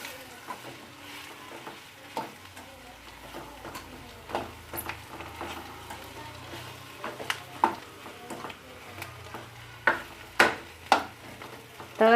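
Chopped coriander being mixed through a spicy brinjal rassa curry, giving soft stirring scrapes and occasional sharp spoon clicks against the pot over a low sizzle, growing louder toward the end.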